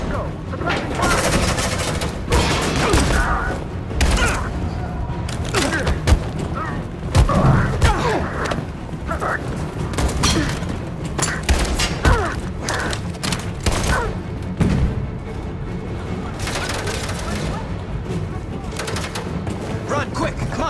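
Sustained gunfire and heavy thuds in a Detroit: Become Human firefight, with dense bursts of shots and booms rattling continuously over a loud, busy mix of action sounds.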